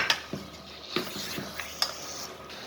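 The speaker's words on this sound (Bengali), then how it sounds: "এখন এটা ভালোভাবে নেড়ে মশলার সাথে মিশিয়ে নিব।" Beef with spices is stirred in a pot, a spoon knocking against the metal in a few scattered clinks and scrapes over a soft cooking hiss.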